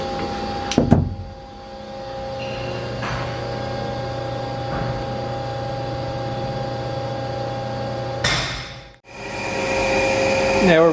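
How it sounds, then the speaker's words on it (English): 2003 Haas SL-30T CNC lathe spindle running at 1500 RPM, a steady close whirring hum holding level for several seconds, with a brief knock at the start and a short dip and restart near the end. "Now we're running the spindle at 1500 RPM."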